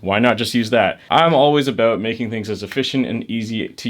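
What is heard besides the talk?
No distinct noise like a dog, phone or traffic.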